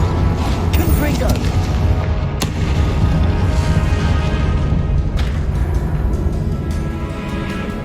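Confringo fire spells burst in Hogwarts Legacy, a dense, loud barrage of booming blasts and rumble that runs without a break, with voices mixed in among the explosions.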